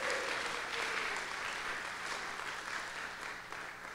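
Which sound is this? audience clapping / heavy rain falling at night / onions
audience clapping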